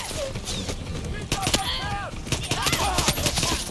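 Gunfire in the Far Cry 6 video game, several sharp cracking shots and bursts scattered across the clip, mixed with other game effects and a voice speaking.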